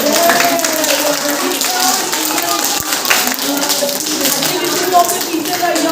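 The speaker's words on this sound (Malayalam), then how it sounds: "അപ്പോൾ ബിഗ് ക്ലാപ്പ്, നമുക്ക് ഒരു ക്ലാപ്പ്" Audience applause at a school Grandparents Day celebration, many hands clapping in a steady, dense patter that lasts throughout, with a voice talking over it.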